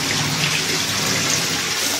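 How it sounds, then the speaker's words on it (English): A battery-powered bilge pump runs submerged in water during a canoe test, giving a steady, continuous wash of splashing and gurgling water with no clear breaks. "Alright, here's our bilge pump test."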